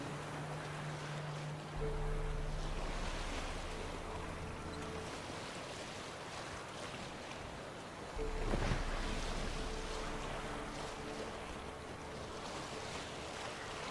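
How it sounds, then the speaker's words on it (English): Waves wash and splash continuously against a moving boat in the video game Witcher 3, with a steady rush of water, wind and low engine-like drones that swell and fade. "I'm really impressed with the way this thing moves through the water. Like, look at that with the splashing and the waves."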